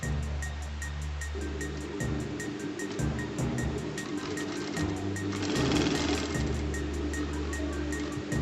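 A sewing machine stitches a straight line along a tote bag strap, its needle clattering in a fast, steady rhythm with a low motor hum, running continuously and close by.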